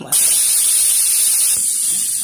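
Steady, loud sizzling hiss of chopped onion frying in hot oil, continuous and close, with a brief dip in intensity partway through.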